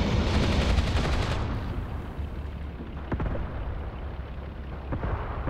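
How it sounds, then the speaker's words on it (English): A loud, booming burst of frag grenade explosions in the Graviteam Tactics war game opens the scene, then fades into a rumbling wash of battle noise with a few sharper cracks later on. No one speaks. "They are actually tossing frag grenades"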